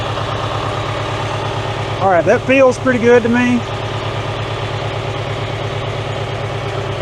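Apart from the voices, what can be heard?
David Brown tractor engine running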